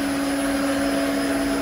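A 10 hp three-phase liquid ring vacuum pump runs on a variable-speed drive, a loud, steady, close mechanical drone with a constant tonal whine and no variation.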